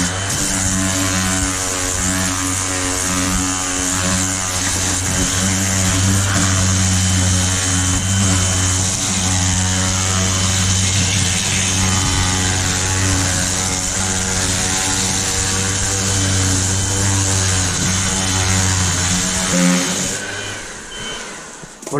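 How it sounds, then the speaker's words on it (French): A power sander grinds continuously across an Alfa Romeo wheel rim during paint prep with fine-grit paper, a loud steady droning whine that holds for about twenty seconds before winding down. "en ponçant toute la jante comme ça"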